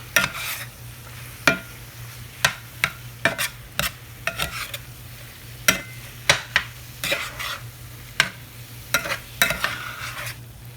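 A spoon stirs flour into a cooking mixture in a pan, repeated sharp scraping clacks in an irregular rhythm over a faint steady sizzle, close and clear with no talking.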